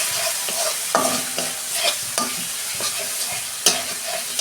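Dried chilli paste, turmeric, cumin and coriander powder frying in hot oil for a Bengali doi potol curry, a steady sizzle broken by repeated sharp scrapes and clacks of a spatula stirring the spices, close and alone.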